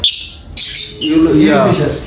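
A Fischer's lovebird gives sharp, high squawks and chirps in quick bursts close by, with someone speaking at the same time.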